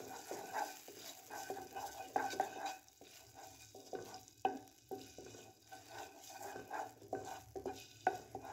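A spoon scrapes and stirs ginger garlic paste in a pan in repeated rhythmic strokes with light clinks, over a soft, faint frying crackle.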